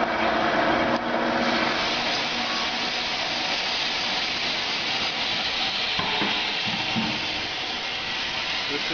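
A Kason Centri-Sifter vibratory screener with a 14 mesh wedge wire screen, fed fast with rice and bran, gives a continuous hissing, rattling machine noise that stays steady and loud throughout.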